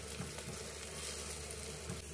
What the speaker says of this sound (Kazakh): Мен самсақты қуырамыз осылай.